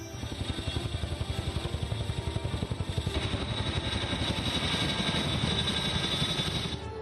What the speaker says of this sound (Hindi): चिनूक हेलीकॉप्टर की गर्जना सुन लो चीन